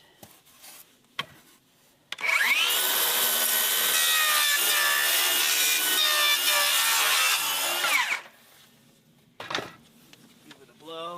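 Power saw cutting a Nudura ICF foam block on a home build, a loud, steady high-pitched whine for about six seconds after brief clatter, ending cleanly with a few short knocks and brief talking around it.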